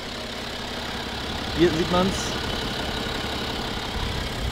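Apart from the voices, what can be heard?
BMW 330d diesel engine idling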